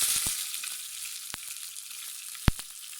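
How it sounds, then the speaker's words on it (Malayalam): Curry leaves and red chillies frying in hot coconut oil with mustard seeds for a Kerala sadya dish, a steady hiss of sizzling broken by a few sharp pops and crackles, with no voices. "കടുക് പൊട്ടിയതിന് ശേഷം അതിലേക്ക് നമ്മൾ എടുത്തു വെച്ചിട്ടുള്ള കറിവേപ്പിലയും അതുപോലെ ചുവന്ന മുളകും ചേർത്ത്"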